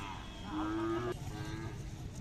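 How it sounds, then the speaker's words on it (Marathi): A single cow lets out a drawn-out moo close by at a Khillar cattle fair in Umadi, Sangli, over a steady murmur of background crowd noise. "यात्रेमध्ये पाहू शकता खालच्या साईडला आहे गाय."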